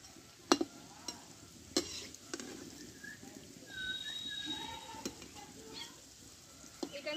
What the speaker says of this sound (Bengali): দেখো এগুলো এক পিঠ ভাজা হয়ে গেছে, আমি উল্টিয়ে দিচ্ছি।